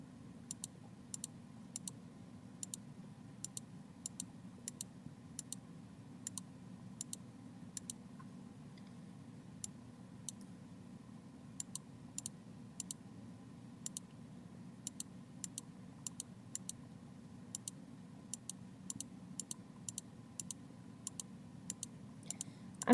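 A computer mouse clicking again and again during image editing, producing quiet sharp clicks in irregular bursts and clusters over a faint steady hum.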